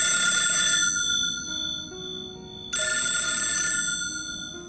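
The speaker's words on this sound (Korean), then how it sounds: "아사미에게 전화를 거는 아오야마." A telephone rings in a Japanese film scene, a bright electronic bell tone in two bursts separated by a short pause, clear and close with no speech.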